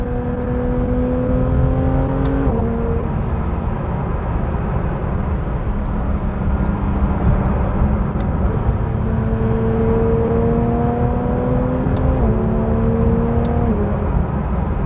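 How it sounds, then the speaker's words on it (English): A Porsche 911 GT3 RS engine revs high and holds a loud, steady whining drone, its pitch shifting up and down several times across the run, close and unbroken. "It sounds so freaking good when you are revving it high."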